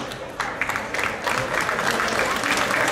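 An audience at a youth fight night bursts into applause after the final round, clapping building and holding at moderate distance over a crowd murmur, with a voice speaking over it.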